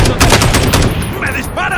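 Rapid gunfire in Call of Duty Warzone, a loud burst of automatic shots followed by scattered pops, with a brief voice underneath.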